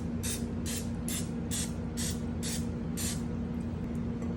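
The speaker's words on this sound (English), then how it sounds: "get a little bit of vegetable spray, spray each one." Seven short, evenly spaced hisses of vegetable oil cooking spray onto muffin tins over a steady low hum, each burst about half a second apart.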